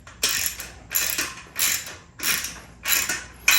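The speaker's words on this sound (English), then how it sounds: "And then this, we're just going to crank it down." Metal mechanism ratcheting as it is cranked down to lock it in place, four to five bursts of sharp clicking creaks at a steady rhythm, close and fairly loud with no talking.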